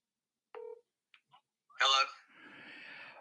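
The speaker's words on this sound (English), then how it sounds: "Let's pick up the phone." Someone places a call from a telephone during a live rural politics radio broadcast: a short DTMF keypad tone, a few faint clicks, then a louder burst and a hissy connecting tone, close and with no talk over it.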